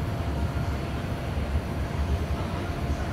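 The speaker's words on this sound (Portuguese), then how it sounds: "Ali o bonde saindo." Tram pulling out of the Valongo depot garage in Santos, heard as a steady low rumble of running gear with broad mechanical noise, moderately loud and continuous throughout, no talking.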